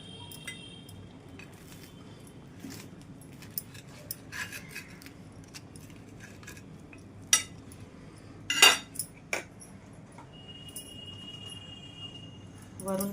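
A knife slices through a crisply toasted, pan-grilled sandwich on a plate, with faint scraping and rasping punctuated by a few sharp clinks of metal against the dish, all quiet and close, with no talking.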